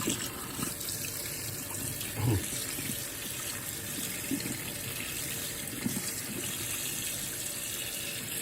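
A kitchen faucet runs steadily while fish are washed in the sink, a constant hiss of water with faint splashes and handling noises underneath, no clear talk.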